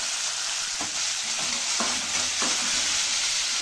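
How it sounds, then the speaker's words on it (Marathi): Green peas for samosa filling fry in hot oil, a loud, steady close sizzle with a few scraping stirs of a spoon in the pan, no voices. "इतकी छान फ्राय होऊ लागले"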